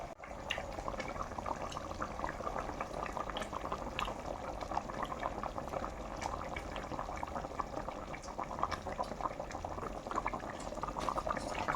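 Fish curry made with korameenu fish and a roasted spice powder boils steadily in a pot, giving a continuous, dense bubbling and popping, close and fairly quiet, with no talking.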